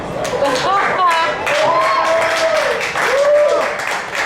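A comedy show audience at a bowling alley claps and cheers in loud bursts while a comedian talks and laughs over it on a mic.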